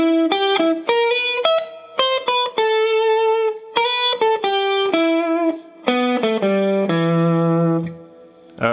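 Electric guitar plays the closing phrase of The Munsters theme, a run of clean, sustained melodic notes and short chords with a mild effects sheen, loud and close, ending on a low ringing note.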